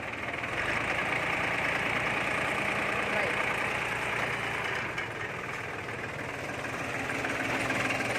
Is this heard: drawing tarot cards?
no